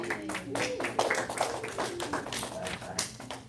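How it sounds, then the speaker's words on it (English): Audience applause at a seminar: dense, close clapping from a room of people, steady and loud for a few seconds with scattered sharp individual claps, a voice mingling underneath. "let's give her one more round of applause."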